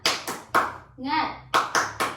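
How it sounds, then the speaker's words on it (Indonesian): An elementary school class performs a rhythmic 'tepuk semangat' spirit clap, sharp group hand claps in a quick pattern broken by a short chanted word from the children, then more claps. "kita melakukan tepuk semangat dulu ya"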